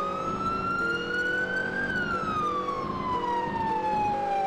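Police car siren in a video game roleplay night patrol, a loud continuous wailing tone rising and falling steadily over a low vehicle engine rumble, close and alone without speech.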